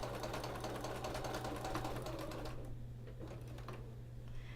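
A sewing machine stitches quilting fabric in a rapid, even mechanical whir, loud and close, then eases off into slower, lighter stitching with a steady low hum beneath.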